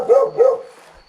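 A dog on an easy summer hiking trail near Rimetea gives two quick, fairly close barks, then falls quiet.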